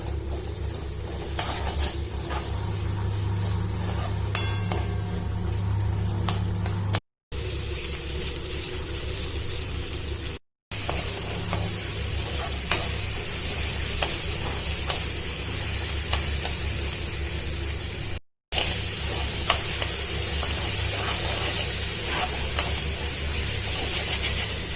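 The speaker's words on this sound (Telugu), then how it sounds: "ఉల్లిపాయలు వేయించుకోవడానికి కొంత టైం పడుతుంది" Onions fry in a pan for an Andhra-style prawn fry, giving a continuous loud hiss and sizzle with occasional stirring scrapes, broken by a few brief silent cuts, with no talking.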